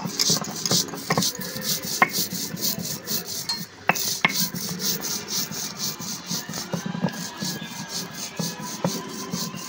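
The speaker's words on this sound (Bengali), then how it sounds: "সেই জিরেগুলো এবার আমি বেটে নেব।" Fried cumin seeds are ground by hand on a grinding stone, a rhythmic rasping and rubbing with repeated back-and-forth strokes and occasional sharp clacks, close and fairly loud.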